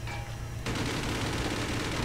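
Continuous loud gunfire in a video game, a sudden dense barrage of rapid shots that starts abruptly and keeps pounding without pause, close and overwhelming.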